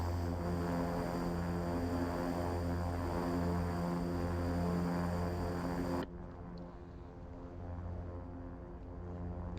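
A King Air 350 twin turboprop in X-Plane 11 spools up for takeoff at Aspen, producing a loud, steady droning hum with strong propeller tones that drops abruptly in level partway through, then continues as a lower, steady engine rumble.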